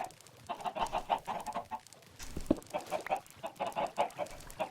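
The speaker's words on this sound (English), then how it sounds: "Now, you hear all that clucking." Minecraft chickens in a flock cluck continuously, dense repeated short calls in uneven clusters with one sharper squawk midway, fairly loud and close, with no voices.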